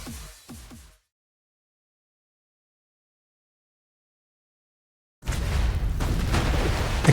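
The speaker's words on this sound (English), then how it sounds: "Explosion after explosion threatens to deafen everyone on the field." Explosions in the video game Punishing: Gray Raven, a couple of sharp booms at the start, then silence, followed by a loud sustained roar of blasts and rumbling battle noise.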